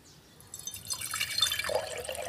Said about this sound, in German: Ernie, gieße bitte Wasser in ein Glas.